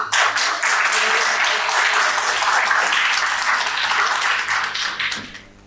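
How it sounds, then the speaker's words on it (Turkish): Seated spectators at a political assembly applaud while gifts are presented on stage; loud, steady clapping with some voices mixed in, tapering off and fading near the end. "Aşağıdaki seyircilerden de boş zamanlarınızı, alkışlarınızı vermenizi rica ediyoruz"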